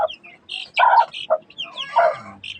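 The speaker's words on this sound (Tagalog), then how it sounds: "Saka ito pala may mga sisiw ako dito guys." Basilan chicken chicks and a hen cluck and peep in short bursts, a few close, loud clucks mixed with higher thin chirps, no talking.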